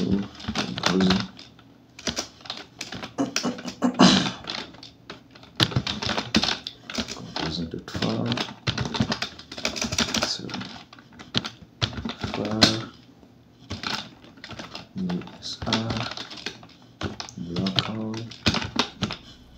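Someone types a terminal command on a computer keyboard while setting up a Laravel and Vue development environment on Kali Linux; dense, rapid key clicks run throughout, close and steady, under a man's continuous speech.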